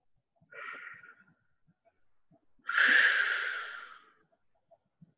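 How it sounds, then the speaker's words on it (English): Deep conscious breaths taken slowly during a guided settling-in, heard as one soft breath followed by a longer, louder, breathy exhale, each standing alone in quiet surroundings. "Just take your own conscious breaths."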